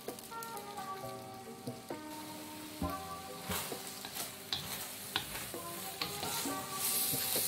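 Mie tek-tek noodles frying in a pan while being stirred, with a soft steady sizzle under irregular scraping and clinking strokes of the utensil against the pan, fairly quiet and close.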